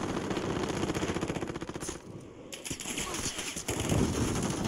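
Rapid automatic gunfire in the shooter game Warzone rattles loud and close in dense bursts, briefly easing around the two-second mark before the fast volleys resume.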